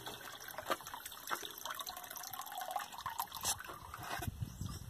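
Water runs from a homemade pump, a steady splashing flow with a few louder gushes near the end, close by and without speech.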